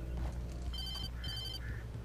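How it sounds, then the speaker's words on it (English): A telephone rings twice in the Alan Wake video game, two short bursts of electronic ringing that sit faintly over a low, steady game ambience. "Phone call?"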